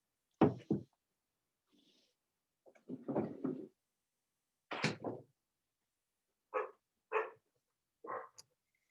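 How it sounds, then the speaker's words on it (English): A door being pushed shut indoors during a talk, heard as a scattered series of close, sharp clunks, bumps and thuds spread over several seconds with quiet gaps between them. "let me close the door"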